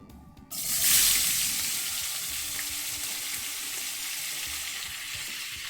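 Vegetables and garlic dropped into a hot pan erupt into a sudden loud hiss after half a second of quiet, then settle into a steady, dense, close sizzle that continues unbroken with no speech.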